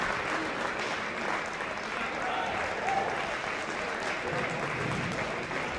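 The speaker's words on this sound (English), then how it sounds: "both teams stand up clapping" Spectators and both teams at a varsity high school wrestling match between Canton and Stoughton applaud after a hard-fought bout, steady dense clapping sustained throughout with crowd noise mixed in.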